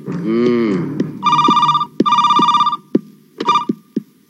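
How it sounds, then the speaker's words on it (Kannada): An old-style telephone bell rings loudly in three bursts with short gaps, mixed with low mooing and sharp knocks around it. "ಫೋನ್ ಬಂತ್ ನೋಡಿ."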